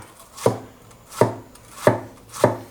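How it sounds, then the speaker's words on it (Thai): A knife chopping bitter melon into pieces on a board, four crisp, evenly spaced cuts close by, each a sharp thud with brief crunch, with quiet pauses between. "หั่นเป็นชิ้น"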